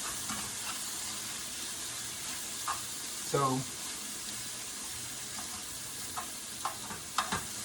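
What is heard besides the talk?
stir-frying noodles sizzling in pan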